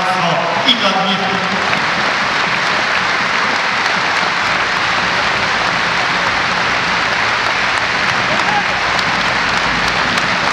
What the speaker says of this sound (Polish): Wielkie brawa dla naszego kapitana